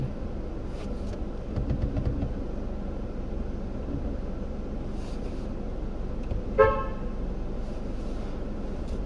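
A single short car horn toot sounds once amid steady traffic and engine noise on a city street, brief and moderately loud over the continuous road rumble.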